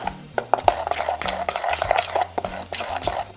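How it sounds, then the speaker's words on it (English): A spoon stirring a lemon parmesan herb crust mixture in a bowl, continuous close scraping and clinking of utensil against the bowl with irregular rhythmic taps, fairly loud and alone. "I'm basically just gonna stir this all together until it's nice and combined."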